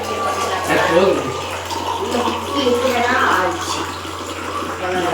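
Water poured into a cooking pot for Tamil-style tomato rice, a steady splashing and trickling stream heard close up under continuous talking.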